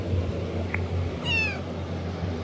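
A single clear cat meow rings out close by, short and rising, over a low steady hum with no talking.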